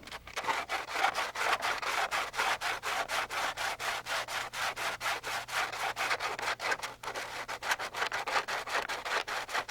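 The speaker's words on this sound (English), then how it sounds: "Sand and trim as necessary." Hand sanding of Rotorway helicopter skid pants, with steady back-and-forth rubbing strokes in a quick, even rhythm, close and continuous throughout with no talk.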